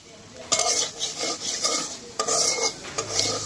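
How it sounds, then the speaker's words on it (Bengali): Spice paste with salt and turmeric stirred and fried in a pan for a tomato, potato and bata fish curry: repeated scraping strokes of a spoon against the pan over a steady soft sizzle, close and moderately loud. "আপনারা দেখতে পাচ্ছেন যে এখানে আমাদের মশলা ভাজাটা চলছে।"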